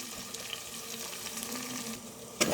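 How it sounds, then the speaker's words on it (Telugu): Sliced onions, green chillies and curry leaves fry in hot oil for a Telugu taro curry, a soft steady sizzle and crackle heard alone that ends with a brief clatter. "ఉల్లిపాయ పచ్చిమిర్చి చక్కగా ఆయిల్లో ఫ్రై అవ్వాలి"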